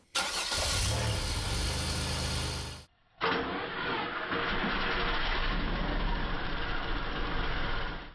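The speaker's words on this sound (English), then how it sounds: "I had an assistant start the engine" A supercharged 3800 engine in a Pontiac Fiero starts up: a loud cranking burst, a brief drop to near silence, then the engine settles into a steady, close idle with no talking.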